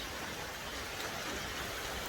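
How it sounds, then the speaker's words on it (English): Steady rain falls outside an off-grid tiny cabin beside an outhouse porch, a dense, even hiss of drops with no breaks or voices. "on days like today where it's raining"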